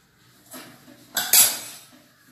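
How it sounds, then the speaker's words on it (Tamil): Garlic pounded in a stone mortar for tomato pepper rasam, a few dull knocks and scraping clinks, close and fairly soft, alone. "அதையும் இந்த பூண்டையும் இடித்து வச்சிடணும்."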